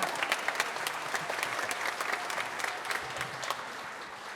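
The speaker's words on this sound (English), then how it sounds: "one more round of applause for Mia Linderman on the alto sax solo" An audience at a high school spring concert applauds an alto sax soloist, with steady dense clapping that carries through the whole stretch, fairly distant and even in level.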